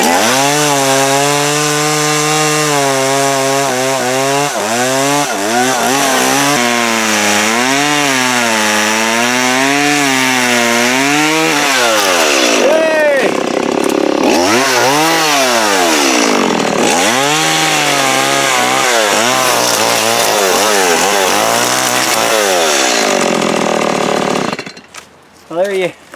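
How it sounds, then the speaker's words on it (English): A chainsaw cuts through dense jungle undergrowth in America, its engine loud and close, revving up and down in long continuous waves for over twenty seconds before cutting off near the end. "We use chainsaws."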